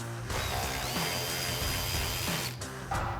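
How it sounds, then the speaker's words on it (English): A hand ratchet with a 10mm socket and short extension turns out tag light screws on a RAM 2500 rear bumper, giving a rapid close clicking whir with brief pauses. "So we've got a 10mm socket and a small extension on my ratchet to get those out."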